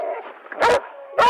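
Police dogs bark at night during an armed standoff, two loud, sharp barks close by, with whining and whimpering between them.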